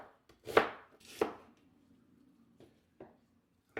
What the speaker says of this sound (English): We're going to chop it up.